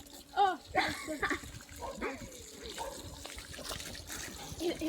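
Water trickles and splashes while a dirty animal is rinsed, with soft intermittent pouring close by under bleating-like animal calls and talking.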